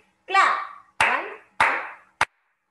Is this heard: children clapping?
yes